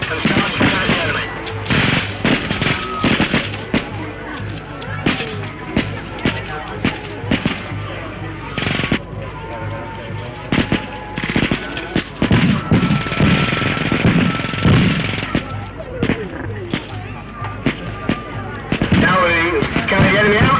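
Gunfire rattles through a military patrol attack at the 1972 Enfield Festival display, a dense run of sharp bursts and single shots crackling steadily for about twenty seconds.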